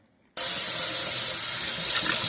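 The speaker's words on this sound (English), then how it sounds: "let me add some water" Water rushes steadily from a kitchen tap into a pot for ground beef chili, starting abruptly after a brief silence and then running loud and continuous to the end, with no talking.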